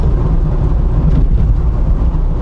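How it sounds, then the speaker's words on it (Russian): Heavy rain pouring down outdoors in England, a dense, loud, steady roar with a deep rumbling undertone and no talk. "Так, дождь какой полил."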